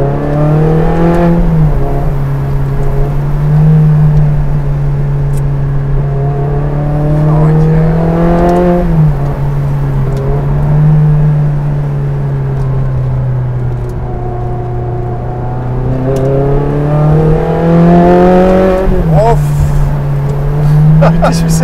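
A Ferrari Challenge Stradale engine revs loudly and continuously at close range with its exhaust valve open, pitch climbing and falling in several sustained pulls and briefly dipping between them, while people talk nearby.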